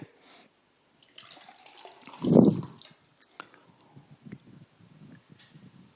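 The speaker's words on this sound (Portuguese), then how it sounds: "Só tomar um golinho d'água aqui" Water taken in a small sip from a cup or bottle, with a soft swallow and gulp in the middle, close and quiet, surrounded by faint handling clicks and taps.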